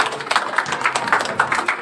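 An audience at a school science exhibition claps for a student, a brief spell of scattered, moderately loud hand claps with a rough, uneven rhythm.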